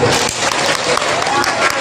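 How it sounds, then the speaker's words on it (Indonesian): Applause from the audience at a Sundanese religious lecture, a steady dense wash of clapping that fills the whole stretch, with voices faintly mixed in. "Boleh tepuk tangan Bu"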